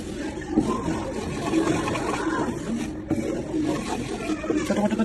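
Strawberry jelly boiling in a pot on a gas stove, a steady broadband bubbling and simmering that runs continuously and close at moderate level throughout.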